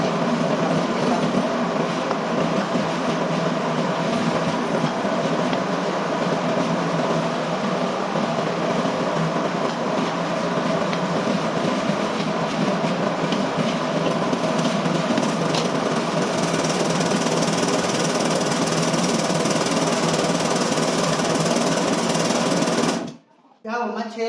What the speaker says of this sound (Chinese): 现在呢，我们就是正式的把它开机，然后呢，切这个猪肉